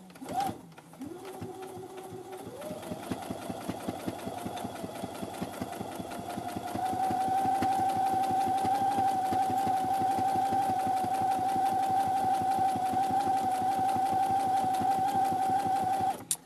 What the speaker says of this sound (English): And we're just sewing this side of the fabric down to hold it down in place